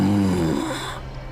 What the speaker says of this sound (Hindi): तभी उनको किसी के सांस लेने की आवाज सुनाई दी